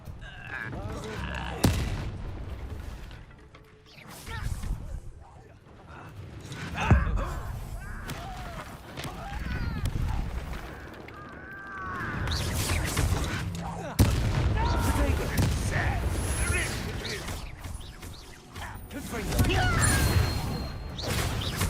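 Confringo fire spell blasts in Hogwarts Legacy, several booming explosive impacts scattered through a busy battle mix with spoken voices and other spell effects around them.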